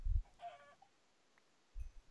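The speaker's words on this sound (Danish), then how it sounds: "Der er en kylling der." A Minecraft chicken gives a few short, soft clucks between faint thumps of game footsteps, quiet and with no talking.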